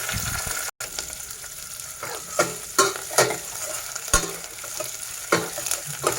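Hot oil sizzles steadily in a pan as spices are tempered for rasam, with a few sharp clinks and stirring scrapes breaking through the crackle; no voices.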